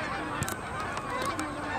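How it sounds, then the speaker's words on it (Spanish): Several migrating ducks honking in quick succession, a flock calling close by over steady background noise, near Chaparral Park in Scottsdale. "una parvada de patos."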